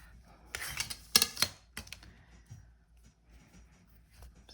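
Scissors snip through a piece of planner paper in a few quick, close, crisp cuts clustered in the first two seconds, then rustling fades to quiet handling.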